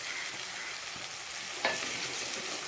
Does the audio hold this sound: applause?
no